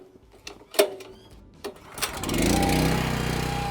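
A rotary hoe's small engine is pull-started with a cold choke: a few tugs on the recoil cord, then the engine catches and settles into a steady close running drone.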